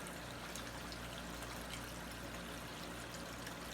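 Water flows steadily over a gold recovery water table, a soft, even trickle and pour that continues without a break, faint and unaccompanied by talk.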